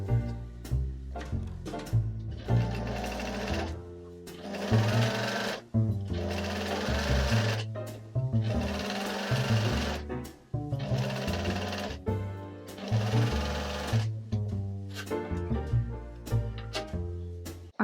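Stitching a facing into a dress skirt, a sewing machine runs in short bursts with brief pauses between them, giving a steady rapid mechanical whir close up with no talk.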